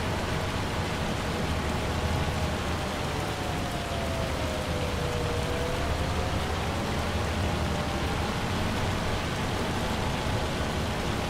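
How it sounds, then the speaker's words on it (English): Hail storm in Farming Simulator 25, a steady, dense hiss of pelting ice and rain on surfaces running unbroken throughout, with a faint wavering tone drifting beneath the constant wash. "or the hail storm should be coming to an end."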